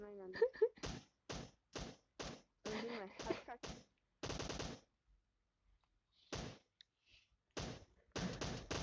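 Rapid bursts of gunfire ring out in PUBG Mobile's heavy weapons mode, quick evenly spaced shots in short volleys at moderate level, with a player talking in between.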